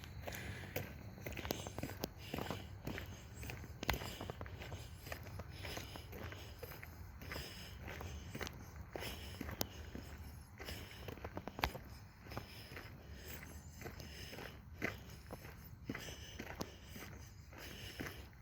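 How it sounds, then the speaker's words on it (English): Footsteps crunch on rocks during an outdoor walk, a steady run of quiet gritty crunches in an even walking rhythm, close to the microphone, with no talk. "And you hear the crunching of the rocks under my feet."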